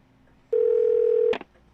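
Car phone dial tone in the FBI Confidential video game: a steady, loud single tone holds for about a second, then cuts off into a brief burst of clicks and noise.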